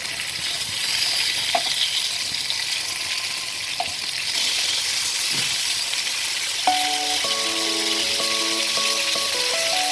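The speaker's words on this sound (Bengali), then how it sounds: "মাছটাকে এখন আস্তে করে উল্টে দিচ্ছি" Poa sea fish wrapped in bottle gourd leaves fries in hot oil in a pan, giving a steady, close sizzle with a few soft clinks, and faint sustained tones enter near the end.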